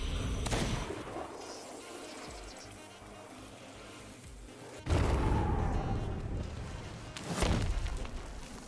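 Cannon-like gunfire booms on a sloop in Sea of Thieves, a few sharp loud blasts with one heavy hit midway, separated by rumbling game ambience.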